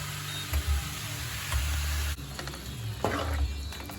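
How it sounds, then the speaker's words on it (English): Tomato sauce is stirred into a hot pan as part of preparing zucchini boats, with a faint sizzle underneath and several low scraping and clunking bursts of a utensil against the pan at irregular moments. "So let's put the tomato sauce in now. Get that stirred in."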